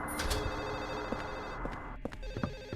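A telephone rings in the Silent Hill 4 video game, its repeated electronic bell bursts sounding near amid a thick, murky ambient drone.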